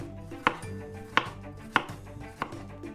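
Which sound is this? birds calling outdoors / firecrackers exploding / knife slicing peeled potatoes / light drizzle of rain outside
knife slicing peeled potatoes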